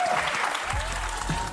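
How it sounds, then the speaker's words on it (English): A studio audience on a daytime talk show claps steadily through a commercial break, a dense, even burst of applause with no voices over it. "I love the crowd like clapping them off for the commercial break"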